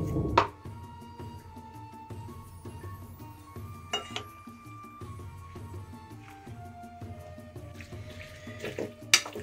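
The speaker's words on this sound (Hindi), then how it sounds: "थोड़ा थोड़ा इसमें हम पानी डाल के इसको अच्छी तरीके से मिक्स कर लेंगे" Water trickles and splashes while gram flour batter is mixed, with occasional sharp clinks and knocks of a spoon against the bowl standing out at the start, middle and end.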